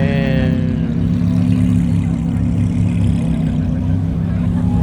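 A Ferrari California at a Cars and Coffee meet in San Clemente revs with a steady mid-pitched engine drone and a rising whine early on, close and loud, with people chatting nearby.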